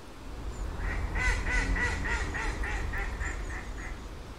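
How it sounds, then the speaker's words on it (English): Greylag geese give a steady run of about a dozen evenly spaced honking calls at moderate distance over a low rumbling background, with no voices. "but the grey-legged goose."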